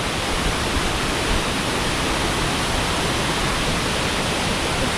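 Tinuy-an Falls in Bislig, Surigao del Sur, pours in a dense, steady roar of falling water, loud and close, unbroken for the whole stretch with no voices.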